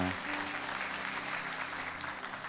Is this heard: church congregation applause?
yes